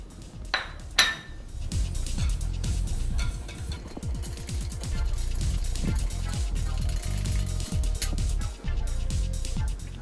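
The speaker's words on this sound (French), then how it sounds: "je vais casser un œuf. Que je vais battre avec 25 g de sucre" An egg being beaten with sugar in a bowl, a fast rhythmic run of whisk strokes clicking against the bowl that starts after a couple of seconds and carries on close and steady.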